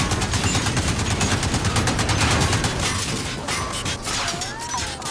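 Sustained automatic machine gun fire in a video game, a dense rapid string of shots with mechanical rattling that runs loud throughout and eases slightly toward the end.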